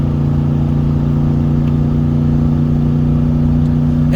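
Chevrolet Silverado 1500 with an LQ9 6.0 LS V8 towing 6500 lbs up a 7% grade, its engine holding a steady, droning hum with no talk over it.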